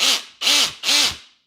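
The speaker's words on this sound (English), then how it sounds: "that was the sound of the clutch on his drill" A DeWalt drill with a brush attachment fitted, its clutch slipping in three loud ratcheting bursts of about four tenths of a second each, close and raspy, with no talking.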